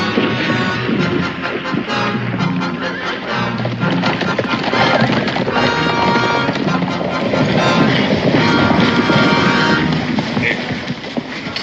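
Horse hooves clatter steadily amid whinnying and neighing, a busy, loud scene with some voices mixed in.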